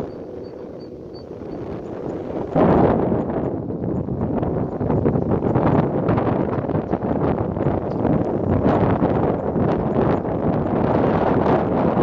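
Strong wind buffets the microphone outdoors at a kite-flying field, a loud, continuous roaring gust that swells sharply after a quieter start and keeps rushing without pause.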